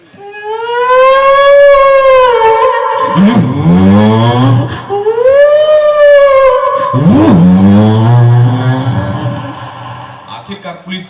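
A police car siren chasing a fleeing car, wailing loudly in long rising and falling sweeps that repeat in a slow cycle, close and dominant, with vehicle noise underneath.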